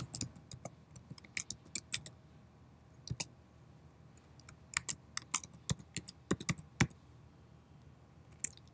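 Someone types an email address on a computer keyboard to log in, giving quick irregular bursts of crisp key clicks with short pauses, close and fairly quiet, with no talking.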